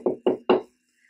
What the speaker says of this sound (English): He knocked on the first little pig's door.